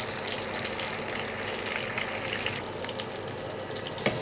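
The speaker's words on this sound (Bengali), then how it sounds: "মাছ ভাজা হয়ে গেছে" Fish fries in a pan with a dense, steady sizzle and crackle of hot oil, close and fairly loud, continuing unbroken for a few seconds with small spatters near the end.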